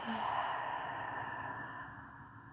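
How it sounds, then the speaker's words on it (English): A slow, steady exhale through the mouth during a yoga breathing exercise, a soft breathy rush that fades gradually, close and quiet with no talking. "Exhale through the mouth."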